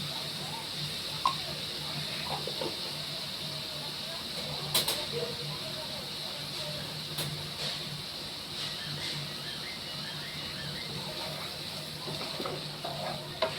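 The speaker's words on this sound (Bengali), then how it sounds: "আমি এখন একটু গ্যাসটা কমিয়ে আমি আর মশলাটা কষাবো। এবার আমি এই 1 চামচ ঘি দিয়ে দেবো মশলার মধ্যে।" Spice paste (masala) fries in ghee in a pan over a lowered gas flame, giving a steady, gentle sizzling hiss with occasional clicks of stirring, under intermittent talking.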